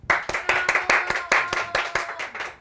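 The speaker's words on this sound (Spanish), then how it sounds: "vamos a darle un fuerte aplauso" Studio audience applauding a pulmonologist guest on a Spanish-language talk show: a short, fairly loud burst of sharp, uneven hand claps from a modest group, with distinct individual claps.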